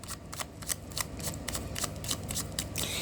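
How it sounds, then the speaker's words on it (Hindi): A deck of tarot cards is shuffled in a quick series of riffling flicks and soft slaps, close and fairly quiet, with no talk. "last shuffle"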